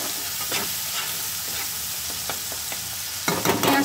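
Onions fry with ginger garlic paste in a pan for chicken kosha while being stirred. A steady close sizzle is broken by repeated spatula scrapes, with a louder burst of stirring at the end.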